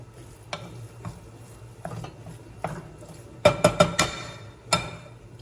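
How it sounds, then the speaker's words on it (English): Sausage meat is being mixed by hand with ground turkey, producing soft, wet squelching and slapping with a few sharper sticky smacks toward the end, close up and without talk. "Just mixing that sausage meat with that ground turkey."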